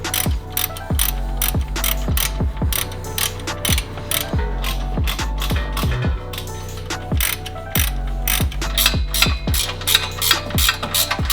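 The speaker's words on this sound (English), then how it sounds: "we're gonna go ahead and just kind of loosely bolt all of these up" A hand ratchet clicks rapidly in repeated bursts while bolts are loosely run up on a 2022+ Subaru WRX exhaust J pipe, loud and close with brief pauses between strokes.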